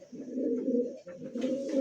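Pigeons in a fancy pigeon loft give a low, continuous throaty cooing close by, with a brief pause midway and faint rustling, without any speech.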